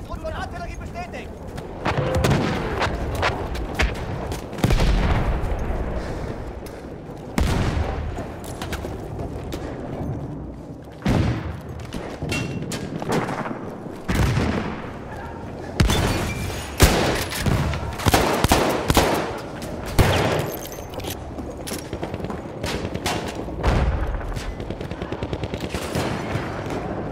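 Dense Battlefield 1 battlefield din from a hardcore Rush match on Empire's Edge: continuous machine-gun bursts, rifle shots and booming artillery fire, loud and sustained with repeated heavy impacts and scattered voices underneath.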